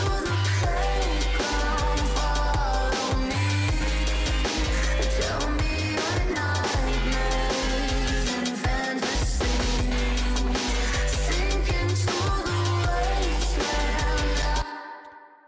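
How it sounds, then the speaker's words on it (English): In a dense electronic track, a metallic yet melodic bass line pulses with heavy low thumps under bright, busy layers, playing loud and continuous before cutting off at the end. "That's like this like metally but melodic like bass."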